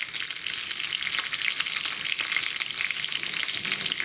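Mustard and cumin seeds sizzle in hot ghee while a moong dal khichdi is being cooked, making a steady, loud, dense crackle that runs unbroken from start to finish with no talking.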